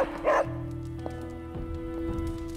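A dog in Marvel's Midnight Suns gives one short bark near the start over a steady low hum of game ambience.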